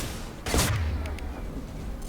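A single heavy impact shot fired in Mass Effect 2 on Insanity difficulty, a sharp loud blast with a booming low tail, followed by quieter combat noise.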